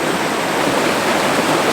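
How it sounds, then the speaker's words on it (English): Small waterfall and river flowing at Corpach, a loud, dense, steady rush of water heard close up and without any other sounds. "So the foreground interest that I'm using for this shot is this waterfall, river even."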